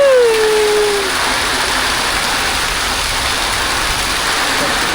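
Heavy rain pours down steadily on a flooded home in a Kisii village, a dense, constant hiss close by, with a brief whistle-like tone fading early and no other sounds breaking through.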